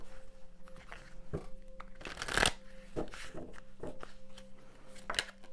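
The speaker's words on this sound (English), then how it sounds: "Two more shuffles." Tarot cards being shuffled in quick riffling bursts, a few crisp rustles with one longer, louder flurry in the middle, close up and without talk.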